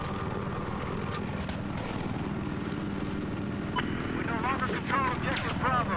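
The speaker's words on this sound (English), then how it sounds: "Oh, look at that helicopter. He's all creeping up there." Helicopter in the video game Battlefield 4, a steady whirring rotor drone running throughout beneath gunfire and game noise, while a player talks over it.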